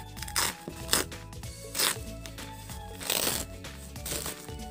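A Kotex overnight maxi sanitary pad's soft, cloth-like individual wrapper is opened close up, giving several bursts of crinkly rustling and tearing separated by brief pauses.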